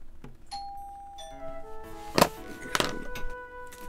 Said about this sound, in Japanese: ピンポンって誰か来たからさ